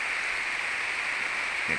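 Heavy rain pours down steadily in Phu Sang, Phayao, making a continuous dense hiss with no pauses or voices.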